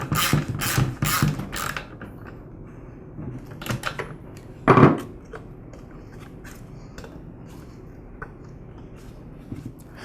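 A ratchet wrench works on the spark plug of a Ryobi handheld gas blower engine, with quick clicking ratchet bursts at the start, then scattered mechanical clinks and one louder clatter midway.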